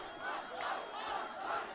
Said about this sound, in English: the chants of Usman ringing throughout the crowd